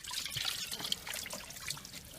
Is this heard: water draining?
yes